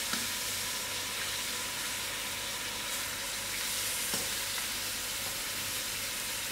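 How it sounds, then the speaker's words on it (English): Gori (trotters) sizzle and fry steadily in oil and gravy in a pot, a continuous close hiss with faint stirring clicks and no talking. "So now gradually I'm going to add in my gori to fry out."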